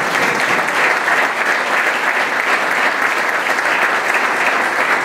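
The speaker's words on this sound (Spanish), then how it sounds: "también merecen un aplauso de reconocimiento" Sustained, loud applause from an audience at the annual Orden de los Inocentes ceremony in Valsequillo, a dense, steady wash of clapping filling the whole stretch without pause.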